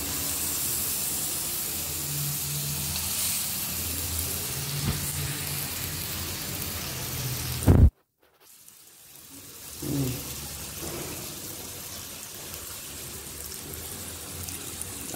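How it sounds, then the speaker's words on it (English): A Wagyu A5 picanha steak sizzles in a frying pan as a loud, steady, hissing crackle. The sound cuts off abruptly halfway through, then comes back fainter and continues softly, with no voices. "that nice sizzle."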